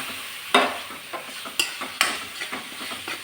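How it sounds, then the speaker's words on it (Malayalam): Ripe mango pieces dropped into hot oil in a pan, giving a sharp sizzling burst followed by several close stirring scrapes and a gentle ongoing fry, with no talking. "അപ്പം മാമ്പഴം അതിലേക്ക് ഇട്ട് കൊടുക്കാം"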